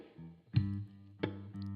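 Two plucked guitar notes, each a low G bass note struck firmly and left to ring, the second following after a short pause.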